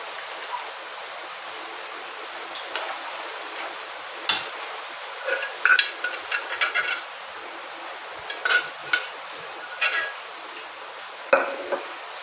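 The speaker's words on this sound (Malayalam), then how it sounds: "തീ കുറച്ച് വെച്ച് വേണം പൊരിച്ചെടുക്കാൻ" Beef pieces frying over a low flame for pickle give a steady hiss of oil with scattered crackles and occasional scrapes of a spoon against the pan, close by with no voices.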